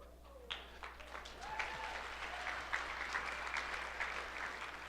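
An audience at a river forum breaks into applause that swells and holds steady, a dense wash of many hands clapping in a large room with a few faint voices underneath.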